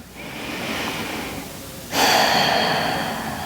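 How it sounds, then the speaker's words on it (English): A long, deep breath in and out during a gentle yoga class for the lower back and hips: close, airy inhale swelling then a stronger rushing exhale, alone without talk. "Take a breath."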